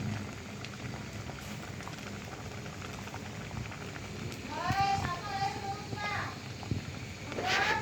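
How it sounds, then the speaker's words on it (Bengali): A pot of dal with drumsticks bubbles and simmers, a soft, continuous boiling patter close by, while a voice speaks and a voice briefly chirps in the background. "একটু ফোটাবো।"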